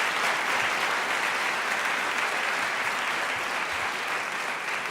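An audience applauds debaters onto the stage at a debate on genetically engineered babies, a dense, steady wash of many hands clapping throughout, loud and even.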